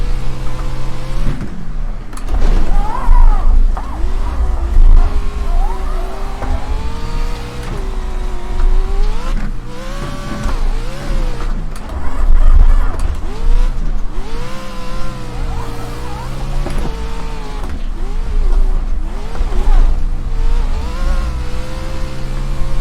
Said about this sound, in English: Last lap of Stadium Pro Trucks.